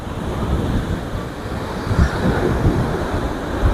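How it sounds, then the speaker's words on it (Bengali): Rough surf breaking on a steep, sloping beach at Bentota, Sri Lanka, with a continuous loud wash of waves and wind buffeting the microphone, and heavier surges breaking near the end. "এই যে দেখুন কি উত্তাল সমুদ্র, ঢেউগুলো দেখুন শুধু।"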